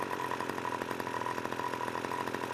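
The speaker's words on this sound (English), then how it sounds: "You can hear the revs changing while turning the screw." An HPI Baja RC car's small gasoline engine idles close by with a fast, even buzzing putter while the idle screw is adjusted, and the revs shift only slightly over the short stretch.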